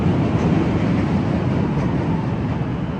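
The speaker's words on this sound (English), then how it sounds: "There's the L train." A Chicago L elevated train rumbles past on a frigid January day, a loud, steady, close roar of wheels and cars on the track filling the whole stretch with no break.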